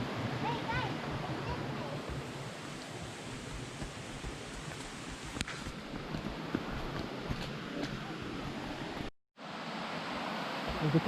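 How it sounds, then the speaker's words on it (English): Waterfall cascade at a summer campsite, a steady broadband rush of falling water that fills the whole scene at moderate level, with a brief dropout near the end. "There's the cascade."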